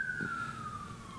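An ambulance siren passes nearby, its single steady wail gliding slowly downward in pitch as the vehicle moves away, loud and continuous over low traffic rumble with no talk.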